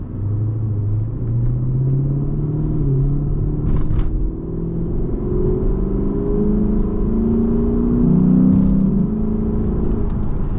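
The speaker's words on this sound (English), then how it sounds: "So let's hear that 5 liter." A 2016 Lexus GS F with a 5-liter naturally aspirated V8, in sport mode, revs in a deep, loud rumble that climbs and falls through repeated rising sweeps, heard from inside the car with no talking.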